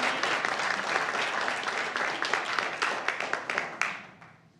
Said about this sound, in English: Let's give her one more round of applause while they're getting.